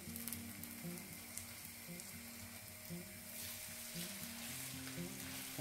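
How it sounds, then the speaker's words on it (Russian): A bear paw dish, an old traditional recipe, sizzles as it fries in a pan, a quiet, even crackle with a low steady hum beneath and no voices. "И хорошенько прожариваем."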